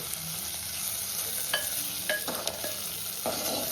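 Onions fry in a pan for a chicken dish, giving a steady close sizzle with a few sharp scrapes and clinks from stirring scattered through it.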